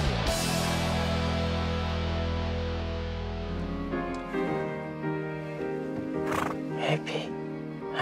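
A horse gives a long, drawn-out whinny, followed by quieter snorts and other sounds.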